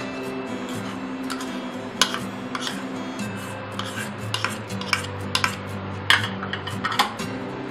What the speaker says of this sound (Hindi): इसको हम मिक्स कर लेंगे।